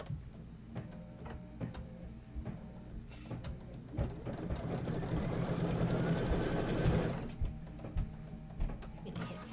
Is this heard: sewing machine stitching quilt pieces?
yes